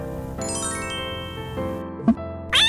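Bright jingling chimes sound over a sustained musical backing, ending in a short sparkling flourish. It plays as a notification bell effect for a subscribe prompt.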